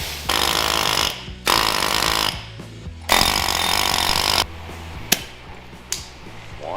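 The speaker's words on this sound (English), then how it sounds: "should be able to grind it now" A grinder cuts into a car part in three loud, roughly one-second bursts of harsh grinding. Each burst stops abruptly, and a couple of sharp knocks follow.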